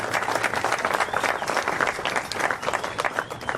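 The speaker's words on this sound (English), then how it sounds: "Big round of applause for our WSL executives." Audience applause at a WSL surfing event ceremony, a steady wash of many hands clapping throughout, moderately loud with no talk over it.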